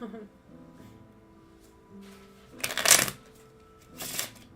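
A deck of tarot cards is shuffled in two quick riffling bursts, the first louder and longer, separated by quieter stretches of soft handling.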